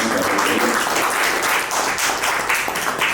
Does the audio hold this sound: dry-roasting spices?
no